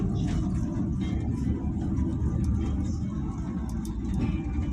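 Berlindo bus driving on a road between Sorowako and Makassar, heard from inside as a loud, steady low engine rumble and road roar running throughout, with no talk.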